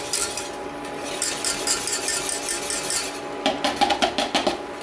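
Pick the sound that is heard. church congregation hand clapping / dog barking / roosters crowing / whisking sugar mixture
whisking sugar mixture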